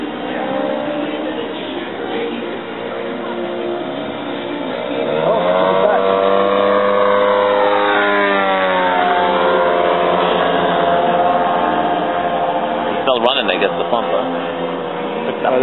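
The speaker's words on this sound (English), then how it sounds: "The pump's on." A motor-driven pump runs continuously, giving a steady droning hum with tonal harmonics that climb in pitch midway and then hold; it is fairly loud and close throughout.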